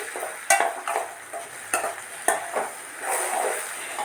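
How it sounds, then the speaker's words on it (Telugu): Tempering sizzles in hot oil in a pan for a dry fruit chutney, soft frying crackle broken by several sharp scraping stirs of a utensil against the pan, close by with no talk. "ఇందులో కొంచెం ఆయిల్ యాడ్ చేసేసి ఆ తిరగమాత కూడా వేస్తే సరిపోతుంది"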